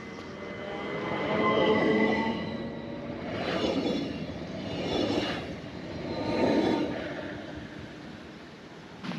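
A Mariazellerbahn train running from St. Pölten to Mariazell rumbles along at a distance, its noise swelling and fading in several slow waves over a steady low drone.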